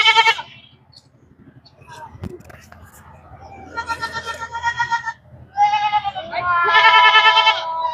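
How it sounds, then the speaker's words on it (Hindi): A young male Sojat goat, about four to five months old, bleats at a goat farm in Surat. It gives a short call, then two longer loud, close bleats, with people talking nearby. "ये बकरा है"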